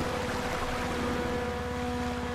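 A steady, close motorboat engine in a video game drones continuously with a low rhythmic chug and a hissy wash, with no voices.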